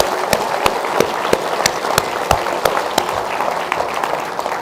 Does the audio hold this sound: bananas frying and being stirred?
no